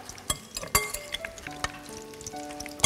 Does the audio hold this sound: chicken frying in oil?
yes